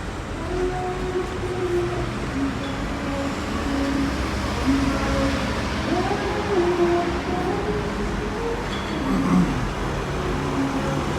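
Cars rolling through a cold parking lot, a continuous low engine and tire rumble with passing vehicles swelling and fading, mid-distance and fairly loud, with no voices heard.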